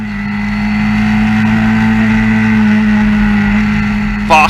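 Historic Formula Ford racing cars at Brands Hatch drone steadily past at high revs, a sustained loud engine note holding through the stretch with a brief sharp burst near the end.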